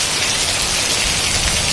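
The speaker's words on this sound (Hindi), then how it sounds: "वहीं बहुत ही ज़्यादा बारिश हो रहा है।" Heavy rain pours down in a dense, loud, continuous roar of drops striking surfaces close by, with no one talking.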